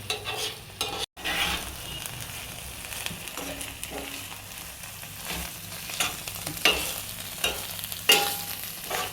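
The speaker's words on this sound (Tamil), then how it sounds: "ஆயில் இப்போ தான் லைட்டாக பிரிய ஆரம்பிச்சிருக்கு ஸோ நம்ம சில்லி பேஸ்ட் வந்துட்டு இன்னும் லைட்டாக வத்த விடணும்" Chilli paste sizzling in oil for prawn ghee roast, with repeated spoon stirring and scraping over a low, steady fry, moderately close.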